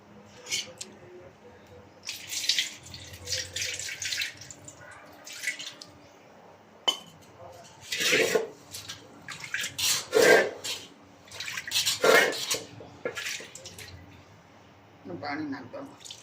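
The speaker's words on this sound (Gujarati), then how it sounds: "થોડુંક પાણી આમાં નાખી દઈએ" Water is poured into a cooking pot in a Gujarati village kitchen: splashing, bubbling pours come in several bursts, with a person talking between and over them.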